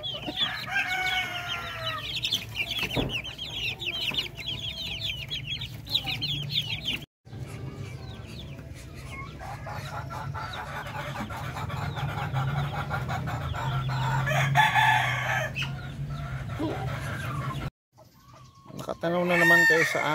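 Darag native chickens, three hens and a young rooster about two months old, cluck busily close by while a rooster crows repeatedly, with someone speaking at times over the flock.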